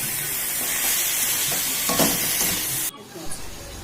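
Coconut filling with sugar, bay leaf and cardamom being stirred in a wok, a steady scraping and sizzling hiss that runs close and continuous for about three seconds before cutting off abruptly, leaving faint room noise.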